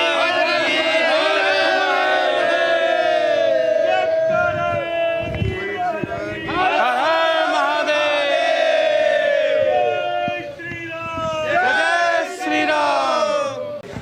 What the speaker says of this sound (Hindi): यहाँ पे आप जयकारों की आवाज़ सुन सकते हैं